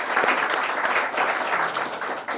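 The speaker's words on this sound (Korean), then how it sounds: "그래도 한번 우리 위원장님 위해서 박수 부탁드리겠습니다" An audience at a church pastors' seminar closing service claps warmly, a dense, even applause that stays steady and fairly loud throughout.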